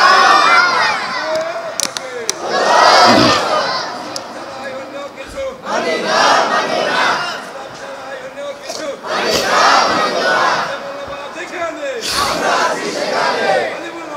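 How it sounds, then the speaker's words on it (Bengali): A large crowd at a religious sermon gathering roars the slogan Naraye Takbir in loud, repeated surging chants, each burst rising and falling, with a leader's call between waves. "জোরে একটা স্লোগান দেন, আপনারা দেন, নারায়ে তাকবীর বলেন"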